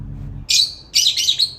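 Pet lovebirds giving two loud, shrill chirping bursts close by, each with a rapid run of sharp tweets, after a brief low rumble at the start.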